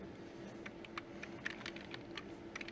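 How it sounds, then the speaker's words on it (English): Keys clatter on a computer keyboard in quick, uneven taps, close but quiet, over a faint steady hum from the room. "I'm going to go ahead and type in that IP address"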